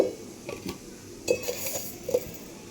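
A metal spoon clinks against a bowl while sugar goes into a dabeli masala, several quiet, sharp taps and scrapes spaced irregularly, close up and alone.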